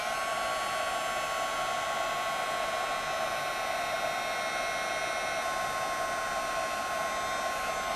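A heat embossing tool blows hot air over embossing powder on card edges, giving a steady, even fan whir with a constant whine that carries through the whole clip, close and alone with no talking.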